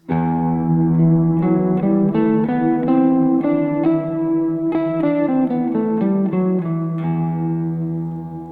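An electric guitar plays a steady melodic line of single notes over a sustained low root, with light reverb and echo, no talking.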